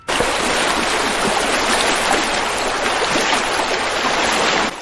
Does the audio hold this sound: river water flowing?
yes